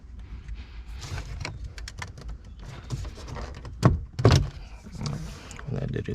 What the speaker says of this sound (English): Okay, how about we open up the door?